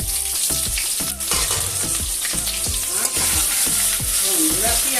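Onion fries in hot oil with cumin, bay leaf and cardamom for a mutton curry, giving a loud, dense, crackling sizzle with steady stirring clatter close by and no talking.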